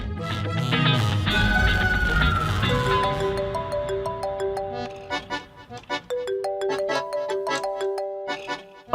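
A mobile phone ringtone plays a bright melodic tune, loud and close, repeating its chiming notes for several seconds with no one talking.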